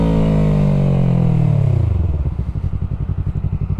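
A motorcycle downshifting to first gear without braking: the engine revs climb then drop away smoothly, settling into a loose, pulsing low-rpm chug with clattery engine-braking thumps, close and clear with no talk.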